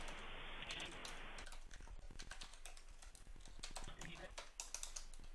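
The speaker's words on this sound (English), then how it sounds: "you're very quick in typing" Rapid clicking of a computer keyboard being typed on quickly, close and steady in dense bursts, while a voice speaks over part of it.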